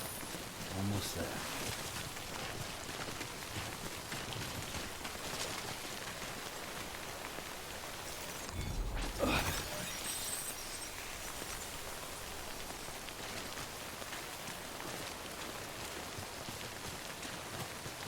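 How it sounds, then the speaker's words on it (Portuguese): Heavy rain pours continuously in the Death Stranding video game, a dense hiss throughout with a brief louder surge near the middle. "Essa chuva é pra acabar com tudo."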